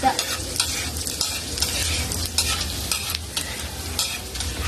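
Tilapia frying in a pan, a close continuous sizzle of oil broken by frequent pops and scraping stirs, with no voices.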